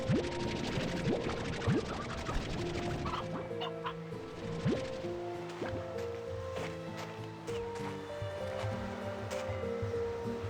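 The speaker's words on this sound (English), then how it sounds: "Hey, chickens." Chickens clucking in the Slime Rancher 2 video game, repeated clucks and short calls over continuous ambient game music and a watery background, steady throughout.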